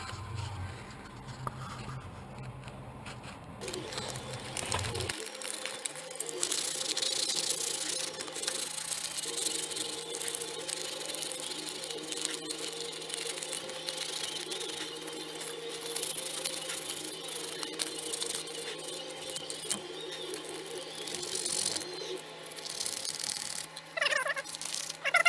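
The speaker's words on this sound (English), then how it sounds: "I'm going to sand this down a little bit." Sandpaper rubs along the edges of a snow auger blade part to clear leftover gasket material, making a continuous soft scratchy scraping with uneven strokes that runs for over twenty seconds, fairly faint and close, with no talking.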